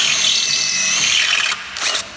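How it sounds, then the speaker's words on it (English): A step drill bit (unibit) cuts through metal on an EK four-door hatchback build, giving a steady close, loud high-pitched grind that dips briefly near the end, then surges again before easing off. "I like to use a step drill for this."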